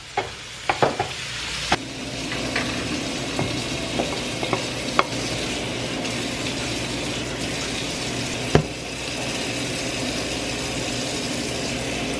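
Two whisked eggs seasoned with pepper and salt being stirred together in a bowl, a steady scraping swish broken by a few sharp clicks and taps, close and without talk.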